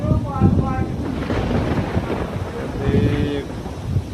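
Thunder rumbles through a rainy, windy monsoon storm in a village, a low continuous roar with heavier bursts, heard loud and close beneath someone speaking over it.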